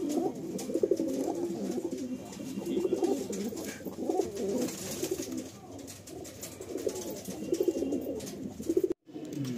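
A flock of fancy pigeons kept for sale coos continuously close at hand, overlapping throaty calls rising and falling, ending in a brief cut near the end.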